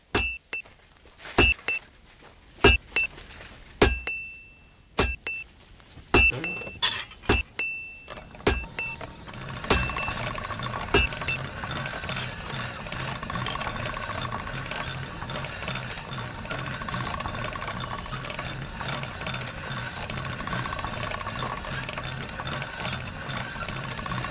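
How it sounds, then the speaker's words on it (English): Sword blades ground on a spinning grindstone in a medieval video game: a run of sharp metallic clicks and scrapes at uneven intervals, then a steady grinding whir with a low rhythmic rumble that carries on to the end. "Sharpen these swords then."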